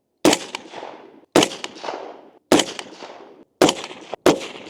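An LMT MARS-H AR-10 rifle fires five rounds, each a sharp, loud report with a short echoing tail, spaced about a second apart with a slightly quicker final pair.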